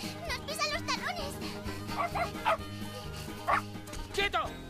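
Several small dogs bark and yip in quick, high bursts, with whimpers in between, close and lively over excited voices in a Spanish-dubbed family film.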